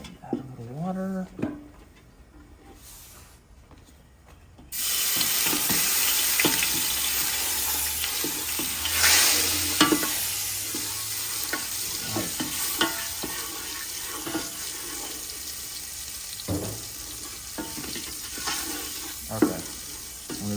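Pork baby back rib stew with turmeric sizzles loudly in the pot after water is added, a steady frying hiss with scraping stir strokes and clinks throughout, following a quieter opening with a brief voice.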